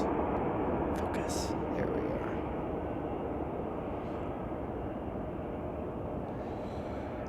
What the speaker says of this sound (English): Looks like that's United Airlines flight 771 from Nashville